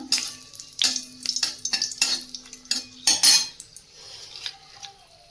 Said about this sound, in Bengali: ওই একই তেলের মধ্যে দিয়ে দেবো শুকনো লঙ্কা